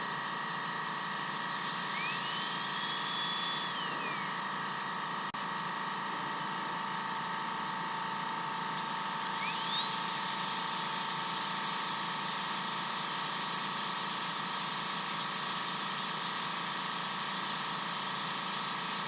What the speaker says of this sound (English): going straight in with the burr actually makes a good bit of difference for me